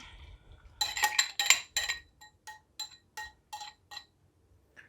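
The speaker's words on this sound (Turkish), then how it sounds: "Şöyle tekrar bir karıştırıyorum." A spoon stirs a yeast, sugar and yogurt mixture in a bowl for Turkish bakery-style poğaça dough, giving a quick run of bright clinks and taps against the bowl that thin out into a few lighter, evenly spaced knocks, close and alone.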